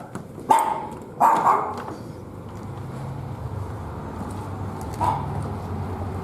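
A few sharp dog barks ring out near the start in an animal shelter, with another bark later, over a steady low rumble of room noise.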